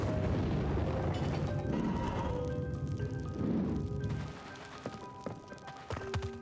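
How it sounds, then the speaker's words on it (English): A fire spell erupts in The Legend of Ocean Boy: The Awoken Breeze as a loud, sustained roaring blast that fades after a few seconds into quieter tonal game effects. "now you can use the fire spell here"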